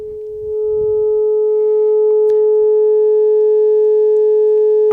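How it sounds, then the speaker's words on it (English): Expert Sleepers ivo synth filter in 3-pole mode with resonance off, producing a steady, loud sustained tone that sweeps smoothly with no resonant peak, a few faint low rumbles early on and no talking. "Let's turn resonance all the way off and sweep through."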